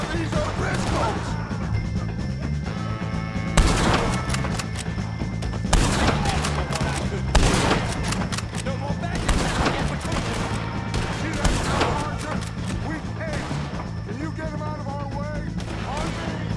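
Gunfire from Red Dead Redemption 2 in a shootout against O'Driscoll gang members: repeated loud shots and bursts over steady in-game background sound, with voices shouting between volleys.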